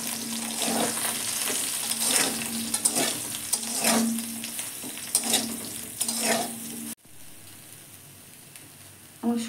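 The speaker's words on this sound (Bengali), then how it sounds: "এবার সোয়াবিনগুলো ভেজে নেব।" Soaked soybean chunks frying in a pan, a continuous close sizzle with repeated scraping strokes of a spatula at a steady pace, ending in a quieter, thinner hiss.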